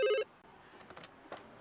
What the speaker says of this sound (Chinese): 找素贞姐，素姐，你的电话。